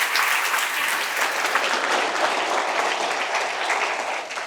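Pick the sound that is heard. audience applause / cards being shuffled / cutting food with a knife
audience applause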